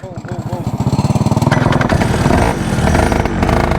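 A mini Porsche GT3RS race car's small engine chugs with a rapid, loud putter, then bogs down and sputters before running again, close up with no talk over it.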